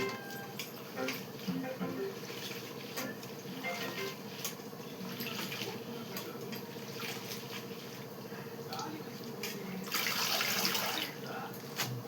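Water draining off freshly washed mint and coriander leaves in a kitchen, a continuous trickling and splashing with small clinks, rising to a louder gush near the end.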